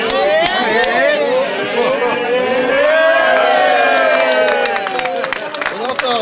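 A festive crowd at a Limoux brotherhood ceremony chants and cheers loudly and continuously while someone downs a small glass of blanquette in one go, with scattered claps and shouts throughout.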